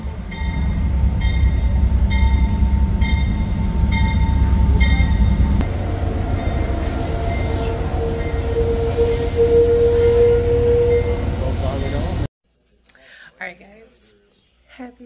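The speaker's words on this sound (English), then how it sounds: "We are about to get on the train" An Amtrak passenger train rumbles steadily with loud wheel squeal and track noise, a long high screech rising near the end before the sound cuts to quiet with faint movement.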